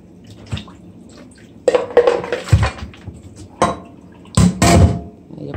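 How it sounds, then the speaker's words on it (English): Hot water splashes and sloshes as it pours off a pot of cow foot, with clanks of metal cookware in bursts between quieter moments. "then you're gonna pour off the hot water"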